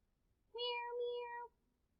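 A single clear cat meow, close and drawn out for about a second, rises out of an otherwise quiet background.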